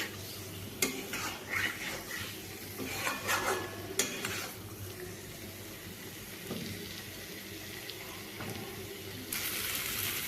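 Spice masala frying in a pan for a tangra fish curry, a steady soft sizzle with scattered scrapes and clinks of a spoon stirring against the pot.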